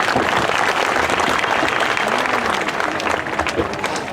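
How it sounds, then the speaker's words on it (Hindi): Loud, dense clapping from an audience at a yoga programme event, honoring performers who presented Jharkhand heritage, steady and close throughout with faint voices beneath. "इनके लिए भी हम जोरदार ताली बजा देते हैं।"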